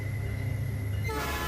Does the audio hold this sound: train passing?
yes